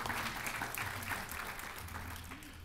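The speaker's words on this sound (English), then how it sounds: "give you guys a round of applause" Audience applause after a speech at a public meeting on local elections and voting in Orange County, a steady dense wash of clapping held for the whole stretch at moderate level and tapering slightly at the end.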